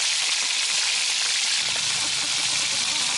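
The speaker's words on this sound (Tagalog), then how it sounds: "tara magprito tayo" Fish fries in cooking oil beside the sea, giving a loud, dense, unbroken crackling sizzle that stays close and constant throughout.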